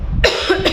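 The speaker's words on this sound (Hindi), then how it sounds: "मुझे थोड़ी सी खांसी हो गई है" A woman with a slight cough coughs twice at close range, first a sharp burst and then a softer second one a moment later.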